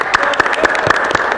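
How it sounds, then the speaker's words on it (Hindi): Children clapping for a guest of honour at a school show: quick, crisp hand claps in a loose, uneven patter, fairly close and loud, with voices murmuring underneath. "बच्चों तालियां बजाओ।"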